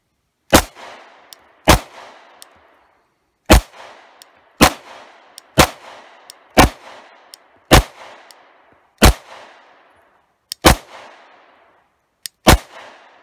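A handgun fitted with Red Fox Arms Encounter fiber optic sights fires about eleven loud, sharp shots after being thrown through dirt, spaced roughly a second apart with a brief pause midway, each crack leaving a short ringing decay.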